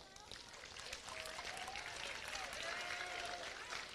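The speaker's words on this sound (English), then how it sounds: "Let's give these guys a round of applause." An audience at a high school awards ceremony claps in sustained, even applause for about four seconds, with some voices mixed into the clapping.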